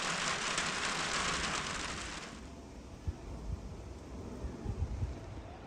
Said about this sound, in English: I'm going to get into the rain a bit